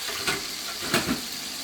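Chilean sea bass fillets seasoned with pepper fry in a pan with a continuous close sizzle, broken by two soft bumps of movement.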